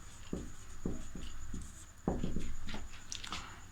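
Pen writing on paper in a classroom-style lesson: close scratchy strokes in short bursts, with steady low background hum and no talking.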